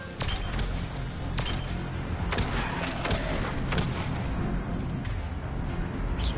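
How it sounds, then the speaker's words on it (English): Gunfire in the video game Mass Effect 3, a sustained barrage of shots and thuds with several sharp, loud bursts standing out against the constant battle din. "Who's shooting at me?"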